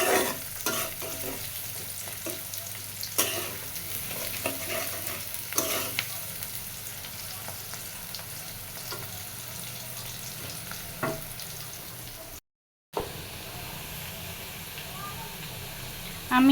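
Onion with a paste of ginger, cumin, royal cumin, garlic and onion sizzles steadily in a pan, with repeated stirring scrapes and clinks and a short break in the sound partway through.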